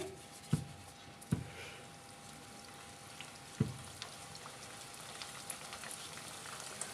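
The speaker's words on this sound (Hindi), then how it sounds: "टिक्कियाँ हमारी रेडी हो चुकी है। ऑयल में डालते हैं फ्राई होने के लिए।" Sweet tikiyan frying in oil, a faint steady sizzle with a few sharp clicks early on, likely as the patties go into the pan.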